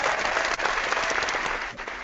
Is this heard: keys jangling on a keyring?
no